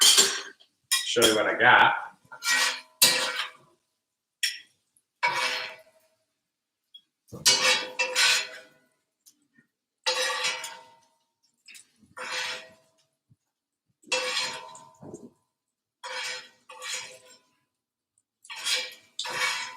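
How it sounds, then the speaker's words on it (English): Asparagus with crisped garlic is scraped from a pan onto a plate, sharp bursts of cutlery and dish clinks sounding in a steady rhythm of close, separate clatters, with brief talk at one point. "So I'm gonna kind of just like plate this"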